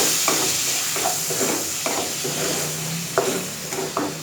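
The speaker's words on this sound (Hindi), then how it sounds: "2 टेबल स्पून हम इसमें डालेंगे सोया सॉस और इसे अच्छी तरह से मिक्स करेंगे तमाम चीज़ों के साथ।" Chilli chicken with soy sauce is stirred in a hot pan, a steady sizzle with repeated scraping stir strokes, close and fairly loud, with no speech.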